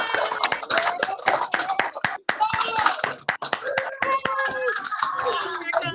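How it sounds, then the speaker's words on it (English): People in a virtual meeting clap over open microphones with uneven, scattered hand claps, with voices and some cheering mixed in throughout. "we're going to end today's program by clapping our hands"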